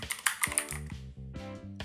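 A computer keyboard clicks out a short burst of keystrokes, several quick taps close to the mic. A soft synthetic tone follows, and no one speaks.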